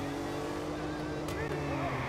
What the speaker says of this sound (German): Boah, schön, wie der rutscht der Wagen.